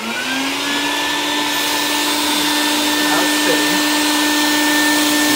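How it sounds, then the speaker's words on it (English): A shop vacuum for dust extraction on a Shaper Origin handheld CNC router spins up and then runs loud and steady, a continuous whine with a rising tone at the start. "so you're going to turn on the vacuum"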